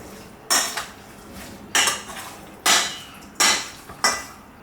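A spoon or utensil mixing a chicken wing marinade of bouillon powder, sugar and crushed garlic in a bowl, heard as five sharp clinks and scrapes at a steady, unhurried rhythm, close and fairly loud with quiet gaps between.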